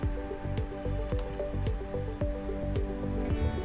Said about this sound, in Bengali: দেখুন জলটা ফুটে এসছে।